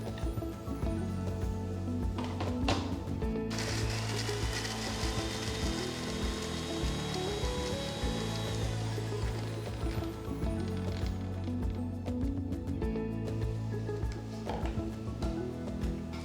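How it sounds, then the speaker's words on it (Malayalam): Ginger, shallots and garlic are crushed together for a fish masala, giving a steady grinding, rubbing texture that runs throughout with no talking. "ഒരു ചെറിയ കഷ്ണം ഇഞ്ചി, 5 ചുവന്നുള്ളി, 5 വെളുത്തുള്ളി, ഇതെല്ലാം കൂടെ ഒന്ന് ചതച്ചെടുക്കാം."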